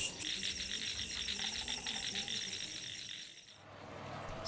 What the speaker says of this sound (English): The frogs and bugs came out to make their own kind of orchestra of noise.